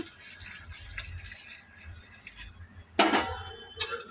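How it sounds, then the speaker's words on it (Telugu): Hot water pours into a pot of country chicken curry, a soft wash of splashing followed by a sharp metallic clink of a vessel against the pot, close and fairly quiet. "ఈ వేడి నీళ్ళు వేసేసుకోండి ఇందులో ముక్క ములిగేలాగా"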